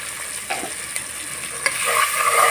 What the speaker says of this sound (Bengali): দিয়ে একটু সময় নিয়ে ভালোভাবে ভেজে নেব